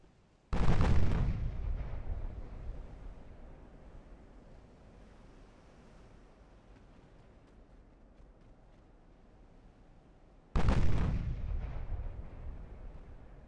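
Two heavy booms of naval gunfire from the Ultimate Admiral: Dreadnoughts warship game, each a sudden loud blast followed by a long rumbling decay, spaced about ten seconds apart over a low ambient sea wash.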